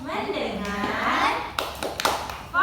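Preschoolers performing the tepuk fokus clapping routine, a cluster of quick sharp claps near the end following chanted children's and teacher's voices.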